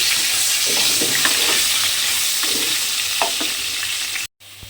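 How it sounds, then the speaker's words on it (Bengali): Potatoes frying in oil with salt and turmeric, a loud continuous sizzle with occasional scraping stirs of a utensil, no voices. "অল্প একটু হলুদ দিয়ে আলুটাকে একটু লাল করে ভেজে নিতে হবে।"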